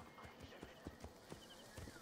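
A horse's hooves clip-clop in the Assassin's Creed Origins video game, a quick series of light knocks at a trotting pace, faint and close, with some game ambience.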